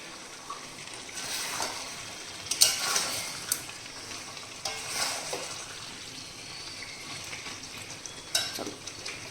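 Mutton curry sizzles and fries in oil in a saucepan, a steady close crackle with occasional louder spatters and stirring scrapes.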